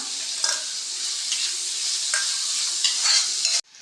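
Sliced onion and chopped coconut frying in a pan for a chayote masala curry, a continuous bright sizzle with a few soft stirring scrapes, cutting off abruptly at the end.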